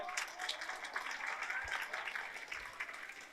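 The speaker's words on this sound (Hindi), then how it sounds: "खूब जोर से तालियां इनके लिए, खूब जोर से तालियां।" Schoolchildren at Sharda Vidya Mandir in Raiganj clap for a classmate during a motivational talk, an uneven burst of fairly quiet hand claps with a few louder accents, heard alone.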